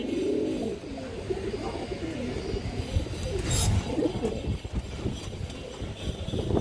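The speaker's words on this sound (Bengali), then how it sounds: "কালদম মাদি কবুতর আছে হাই ফ্লাই কালদম মাদি" Pigeons, including high-flying Kaldom females, coo softly in low, repeated murmurs against a steady background hum.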